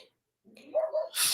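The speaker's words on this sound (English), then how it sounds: "excuse me, that's my dog" A dog in the home whines and gives a short muffled bark, faint and brief, ending in a burst of hissy noise.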